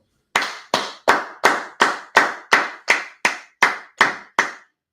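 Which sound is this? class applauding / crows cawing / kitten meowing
class applauding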